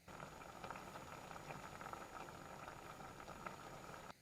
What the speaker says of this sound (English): we're going to have it cooking for 5 minutes without the lid